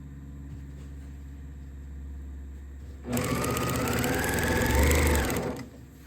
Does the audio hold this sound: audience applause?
no